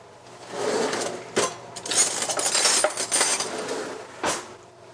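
A spoon clinking and scraping against dishes while a layered meat-sauce dish is assembled, with a few sharp clinks and softer rustling handling noises in between, close and moderately quiet.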